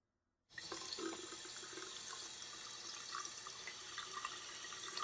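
Water running from a faucet in a video game, starting abruptly after a moment of silence and then pouring steadily into a sink, fairly faint and alone.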